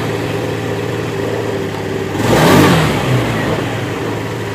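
A Honda Beat FI scooter engine, being tested after a sensor fix, idles steadily, then gives one quick rev that rises and falls back to a smooth idle, close and alone.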